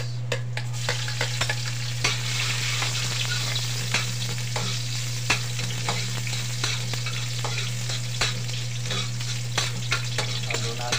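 Onions fry in a pan for pakbet, a steady close sizzle with a constant low hum beneath and repeated scraping clicks of stirring throughout.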